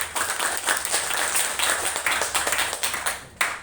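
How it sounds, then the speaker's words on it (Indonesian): A small classroom group claps briefly, a quick patter of uneven hand claps filling a room, ending with a sharper clap near the end. "Tepuk tangan buat Nopal"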